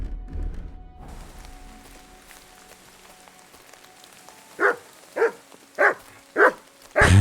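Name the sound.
dog barking in video game Kingdom Come Deliverance II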